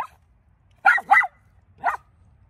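A Miniature Pinscher barks three times, two quick barks close together followed by a single one after a pause, fairly near and loud in otherwise quiet surroundings.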